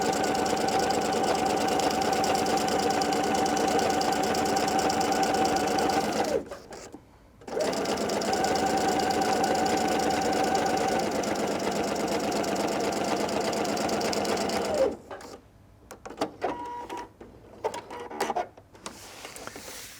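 Close sewing machine stitches a nylon backpack seam in two long steady runs of whirring motor and needle chatter, broken by a brief pause, then ending in scattered clicks and handling noises.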